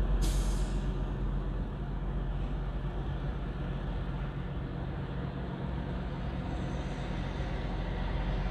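A semi truck's air brake releases with a sharp hiss at the start, then the big rig's engine rumbles steadily and loudly from inside the cab.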